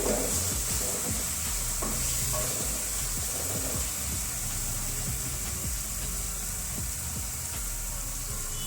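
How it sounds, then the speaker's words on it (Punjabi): Masala for a ridge gourd curry frying in hot oil, a steady continuous sizzle with occasional stirring scrapes, close and even throughout with no voices. "ਇੱਕ ਮਿੰਟ ਵਾਸਤੇ ਹੋਰ ਪਕਾ ਲੈਨੇ ਮਸਾਲੇ ਨੂੰ"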